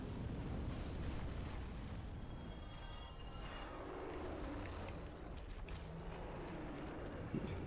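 A fire spell bursts in Dark Souls Remastered, a continuous rumbling, roaring blast that swells and sustains for several seconds with crackling texture and a faint pop near the end, loud and dense with no talk over it.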